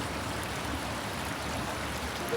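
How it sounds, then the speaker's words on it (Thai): Meltwater trickling beneath a partly frozen waterfall on a winter forest hike in New York, a soft, continuous hiss of running water, steady and fairly faint, with no talking. "มีน้ำไหลอยู่บ้างเป็นบางส่วนนะคะ มันเริ่มละลายแล้วนะคะ"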